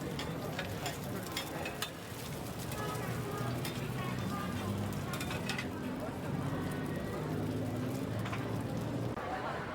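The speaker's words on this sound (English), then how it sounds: "Look at how masterfully the cook prepares a seafood omelet" At a night street-food stall in Bangkok's Chinatown, a cook fries a seafood omelet in a hot pan with a continuous sizzle, punctuated by scraping and clinks of a utensil. Street bustle and voices murmur around it.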